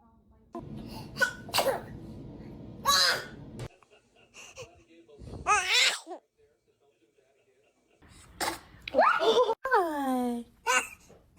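A baby sneezes several times, short sharp bursts spread across the moment, with an adult voice talking softly between them and faint babyish vocal sounds near the end.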